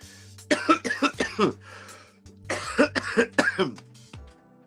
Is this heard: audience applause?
no